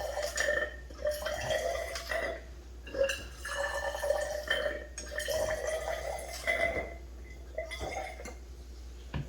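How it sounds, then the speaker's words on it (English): Water is poured onto sodium carbonate and ascorbic acid in a container, giving soft splashing, trickling and glassy clinks at moderate distance in a series of uneven bursts. "Now this one is fizzing because the sodium carbonate and the ascorbic acid are undergoing an acid-base reaction."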